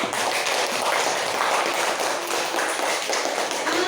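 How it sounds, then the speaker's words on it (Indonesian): A primary school class claps for a student group, a dense and continuous patter of many hands with crisp, tapping hits throughout. "tepuk tangan buat kelompok 3"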